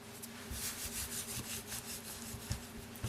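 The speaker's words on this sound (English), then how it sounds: "I'm just going to lightly dust it with about 1 tablespoon of all-purpose flour, about half a tablespoon on each side" Rhythmic rubbing strokes as flour is dusted and rubbed onto thin top round steak, a close series of soft, repeated scrubbing sounds with no talk.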